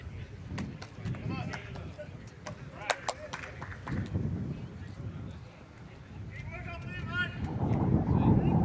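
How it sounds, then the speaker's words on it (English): Wind buffets the microphone at an outdoor cricket ground during a Metro Pennant Premier Division match, rumbling and gusting throughout under sparse commentator talk and a few sharp knocks, growing louder toward the end. "The wind is still here."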